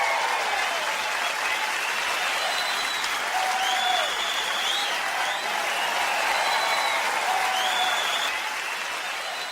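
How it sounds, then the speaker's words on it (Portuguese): A canned applause effect plays on a podcast, a steady wash of crowd clapping and faint cheers at moderate level, lasting several seconds without a break. "colocar uma salva de palmas."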